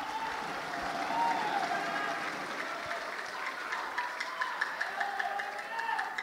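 Audience applause during the final of a women's Qur'an quiz contest at a national MTQ competition, moderate clapping across a hall under a sustained voice or tone, fading into scattered claps.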